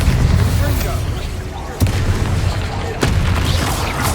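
Booming Bombarda explosion spell in the video game Hogwarts Legacy, two sharp blasts roughly a second apart over a rumbling, noisy battle backdrop.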